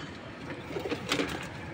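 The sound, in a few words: pigeons cooing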